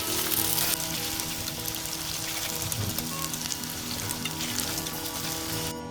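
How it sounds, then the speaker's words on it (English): Onions caramelizing in very hot oil, a dense, steady sizzle like rain on a surface, holding at an even level throughout with no voices over it, briefly louder at the start. "We're now going to caramelize this onion in hot oil, very hot oil."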